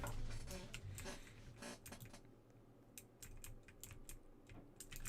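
Keys clatter on a computer keyboard during a Roblox Tower Defense session, a run of quick, moderately close typing taps with a few sharper clicks over a low steady hum.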